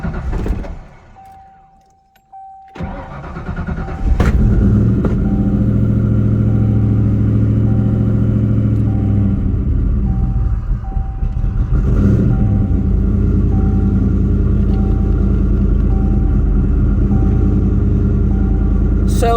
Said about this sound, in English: The fuel pump, when it turned on, kind of sounded like it was almost like it was struggling to spin up